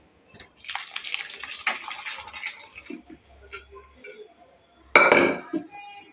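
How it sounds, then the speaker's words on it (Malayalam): Cooked dal is poured into a pan of fried palak spinach, giving a wet splashing pour and spoon clatter against the pot, followed by a second sharper burst of liquid sloshing near the end. "നമുക്കിനി ഈ ദാലെടുത്ത് ഞാൻ ഈ പാലക്കിലോട്ട് ഒഴിക്കുക"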